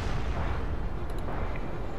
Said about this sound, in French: Mais c'est de l'artillerie ferroviaire.